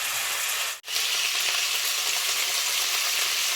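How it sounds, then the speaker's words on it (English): Steady, close sizzling of prawns frying in a hot pan, with one brief dip in the middle before the hiss resumes. "as the prawns is frying"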